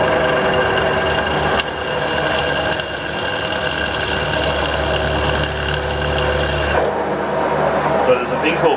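A steady mechanical whirring drone of a drill running continuously while drilling holes for engine mounts with a sharpened bit, loud and close, cutting off abruptly near the end.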